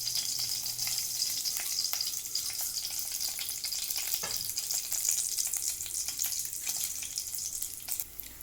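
Garlic and dried red chilli pieces frying in a pan for spicy rasam, a steady close sizzle with crackling and occasional stirring clatter throughout.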